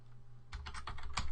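Keystrokes on a computer keyboard while entering code, a quiet idle stretch followed by a run of close, quick clicks in an uneven rhythm with no talking.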